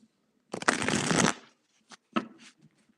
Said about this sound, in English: And I'm shuffling away. Shuffle, shuffle.